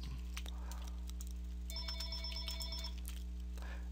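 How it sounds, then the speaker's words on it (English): A telephone rings in repeated bright electronic bursts during gameplay of Tibia, heard over a steady low hum with no talking. "And the phone is ringing, but I'm not sure who it is."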